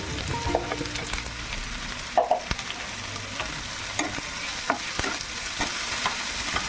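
Chopped onion sizzles in a hot pan for a Bengali fish chop, with steady frying hiss and a few sharp scrapes and clicks as it is stirred, close and continuous.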